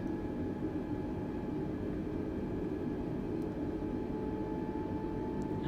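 Inside Microsoft Flight Simulator 2020, an A320neo taxis to the gate, giving a constant low, even engine drone and cabin hum that stays unchanged throughout without any speech.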